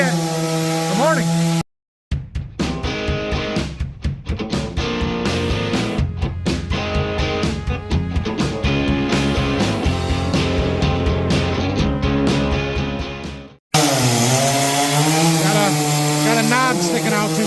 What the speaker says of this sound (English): That saw is how we made all the sawdust behind me.